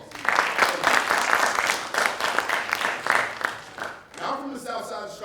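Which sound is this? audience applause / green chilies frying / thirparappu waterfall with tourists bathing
audience applause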